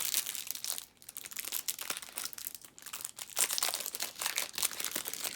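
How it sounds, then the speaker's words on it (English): Cellophane-wrapped deck of game cards for Kanban EV being torn open, a steady near crinkling and crunching of plastic wrap with brief louder rips, no talking. "Okay, to crack open the cards."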